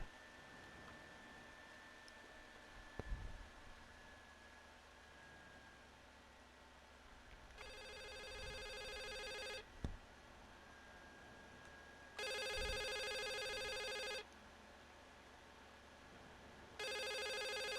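A telephone rings in the video game The Suicide of Rachel Foster, sounding in three loud, sustained bursts separated by quiet pauses over a faint ambient hum, with no talking.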